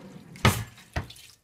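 Water is poured into a cooking pot in a home kitchen, with two short splashing bursts, the first louder, close and clear, and no talk over it.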